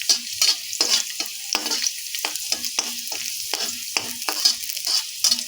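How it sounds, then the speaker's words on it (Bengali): Chopped garlic frying in oil over a low flame, a steady sizzle broken by repeated scraping stirs of a spatula in the pan, close and alone with no voices. "রসুনটা লাল লাল করে ভাজা হয়ে এসছে"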